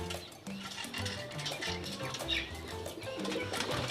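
Pigeons in a breeder's loft, soft cooing and bursts of wing flapping over a busy, close background, with no speech.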